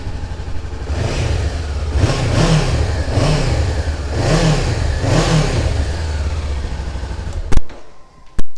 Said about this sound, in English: I'll give it a fire up so you can have a listen to it.